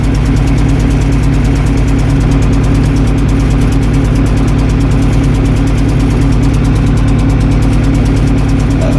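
A 1978 International Harvester 1586 tractor's diesel engine idles loudly and close by after a cold start, a steady low rumbling chug with rattling vibration that never changes.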